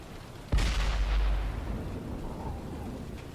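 A tank gun fires once in World of Tanks on PS4, a single loud, deep cannon blast that booms close up and then rumbles away over a couple of seconds.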